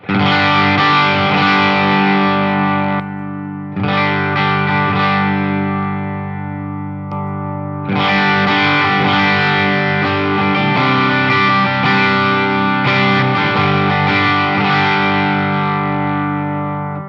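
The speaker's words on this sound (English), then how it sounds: "this is what the sonic harmonic sounds like going into the front end of the amp" Electric guitar through a Sonic Harmonic effect pedal feeding the front end of an amp, loud gritty overdriven chords and sustained notes with short breaks, sounding alone.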